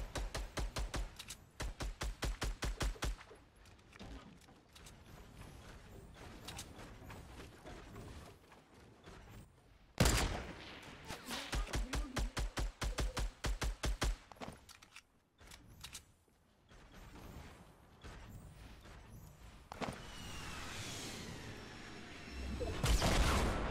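Rapid automatic gunfire bursts in a Fortnite Battle Royale duos match, fast evenly spaced shots in several volleys separated by short gaps, with crashing, building and movement noises between them, loud and close.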